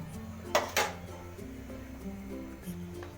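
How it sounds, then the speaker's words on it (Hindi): Metal cookware clanks twice in quick succession as a pot is set on the stove to boil goat brain, followed by quieter kitchen rattles and faint background hum. "भेजा हमने उबालने रख दिया है"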